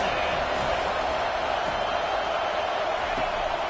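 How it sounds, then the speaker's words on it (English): Stadium crowd roaring in an NCAA 25 college football video game, a steady dense wall of cheering noise throughout with no distinct peaks. "This crowd trying to make life miserable for this offense."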